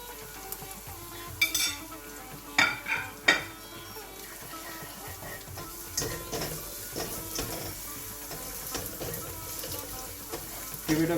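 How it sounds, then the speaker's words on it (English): Turmeric, sugar and salt are stirred into a frying pan for vada pav, with a soft continuous sizzle under several sharp clinks and scrapes of the spoon against the pan, close and fairly quiet. "Give it a good mix and let it cook again for another minute or two"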